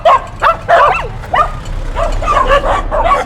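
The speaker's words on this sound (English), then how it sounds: "Those doggies, it sounded like they were telling me where to go, didn't it?" Several dogs barking and yipping in quick repeated bursts on a rural Portuguese Camino walking route, fairly close and loud, alone without talk.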